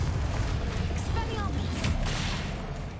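A Confringo blasting spell goes off in Hogwarts Legacy, a loud booming burst with rumbling low end that swells and then slowly fades over a few seconds.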